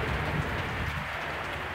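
Rain with wind outside an accommodation in Qatar at 4pm in April: a steady, close wash of falling rain and gusting air with no talk.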